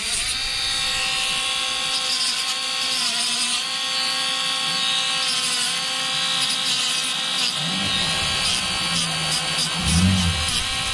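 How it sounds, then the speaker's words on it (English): Rotary tool trimming a plastic PlayStation 3 controller case piece, a steady high-pitched whine with tonal overtones that holds for several seconds, then dips and rises as the bit bites into the plastic. "I'm just gonna trim this up a bit to make sure it fits."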